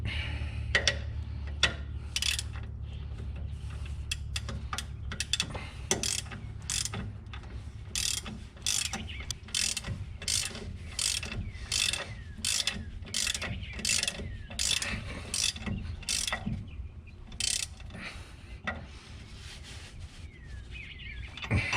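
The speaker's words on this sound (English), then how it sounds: "And I've got my 3/4 wrench, and you're gonna be in the way. My 3/4 inch socket." Repeated rapid clicking bursts from a ratchet with a 3/4 inch socket tightening a lower shock mount bolt on a Jeep Wrangler YJ, close up and steady throughout, with no voices.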